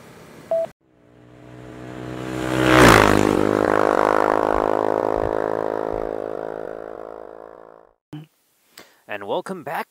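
A scrambler motorcycle heading toward the Tokawa Forest Road in Japan is heard as a loud close engine note that surges, then slowly fades over several seconds, with brief clatter and other noises around it.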